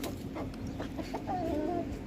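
A pair of domestic chickens, a rooster and a hen, give short clucks and a brief drawn-out call at moderate distance over faint ambient noise.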